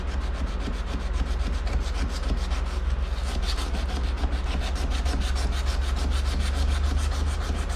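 Knife bevels being ground and sanded on a bench grinder give a continuous close rasping hum with a fast regular pulsing texture, steady and loud throughout with no talking.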